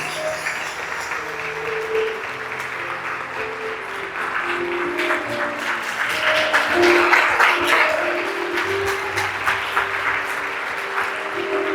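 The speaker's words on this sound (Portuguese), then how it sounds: "Aplaude o Senhor por isso." A church congregation claps steadily and loudly, a sustained wash of applause swelling in the middle, with voices and music-like tones faintly beneath.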